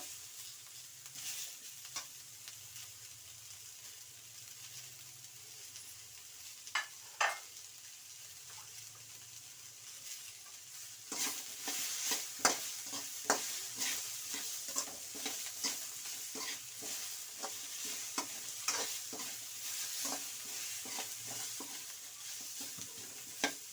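Chopped tomato frying in oil for hotel-style obbattu saru, a steady soft sizzle with scattered stirring clicks and scrapes that grow busier and louder in the second half, with no talk.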